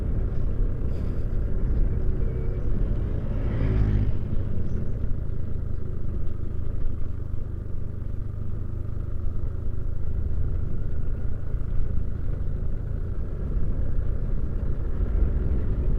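Steady low truck engine rumble on a road near Tanauan, continuous and moderately loud for the whole stretch, with no talking.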